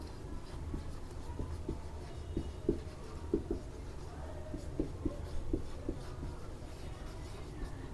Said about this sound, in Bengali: আমি এধারে লিখে দিচ্ছি